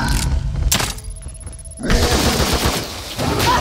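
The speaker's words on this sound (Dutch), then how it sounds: "zij gaat meteen schieten" Gunfire and combat in the video game The Evil Within 2: a burst of loud shots and impacts, a quieter pause, then a second dense volley of booming, shattering blasts.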